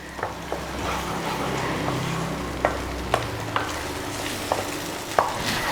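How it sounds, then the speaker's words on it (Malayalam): Beaten egg scrambled in a hot pan on high flame for kothu chapathi, with a steady loud sizzle and several sharp spatula scrapes and taps against the pan, no voices. "ഇനി നല്ല ഹൈ ഫ്ലെയിമിൽ ഇട്ടിട്ട് എഗ്ഗ് ഒന്ന് നന്നായിട്ട് സ്ക്രാമ്പിൾ ചെയ്തെടുക്കണം."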